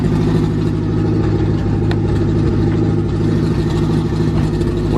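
A car engine with a bad exhaust leak runs loud and steady, its low rumble holding throughout with rough, ragged pulsing and faint ticking on top, and no voices over it.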